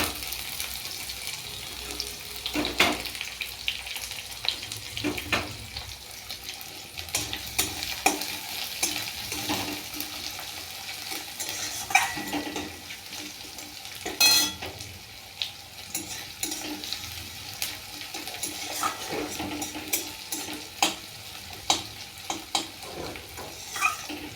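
Chopped onions sizzling and frying in a pan as they are stirred, with scraping utensil strokes and occasional clinks over a steady close crackle, cooked for a duck egg curry with potato and pointed gourd.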